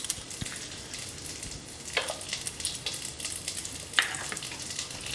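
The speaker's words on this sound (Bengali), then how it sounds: "এবার কাজু বাদাম আর কিশমিশটাকে ঘিয়ের সঙ্গে একটু ভেজে নেব।" Cashews and raisins frying in ghee for basmati pulao, a steady soft sizzle with occasional stirring scrapes, close and continuous, no talk.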